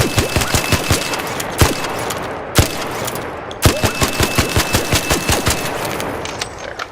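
Rapid bursts of Bettina gunfire in a video game crack out in quick, evenly spaced shots, broken by short pauses and a couple of heavier single reports, loud and close with no talking.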